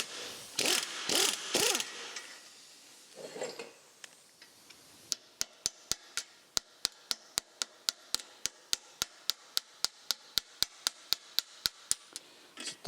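The top bolt comes off a VanDiemen RF-85 Formula Ford race car: after some faint clattering and handling noise, a long run of sharp, evenly spaced ratchet-like clicks follows, about two per second.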